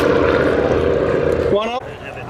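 Avro Anson propeller aircraft at an airshow, a steady loud engine drone throughout, with a brief rising tonal sweep near the end as the sound shifts.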